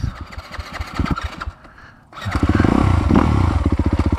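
A Yamaha YZ dirt bike engine, lowered about two inches, pulses close and loud with a rhythmic idle. The sound briefly drops away, then comes back stronger as a steady, throbbing run.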